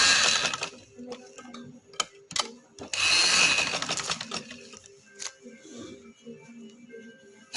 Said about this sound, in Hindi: अब इस तरह सिलाई लगाएं।